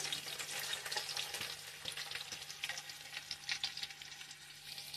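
About 200 grams of onions fry in oil for Muslim-style bagara rice, giving a steady, close sizzle with crackling pops and occasional stirring, with no voices.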